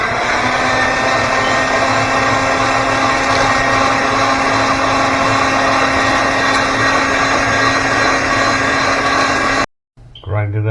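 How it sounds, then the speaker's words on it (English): Electric meat grinder churning pork for homemade dog food, a loud, steady motor drone lasting nearly ten seconds before cutting off abruptly, followed by a brief voice. "Time to ground Tom's pork."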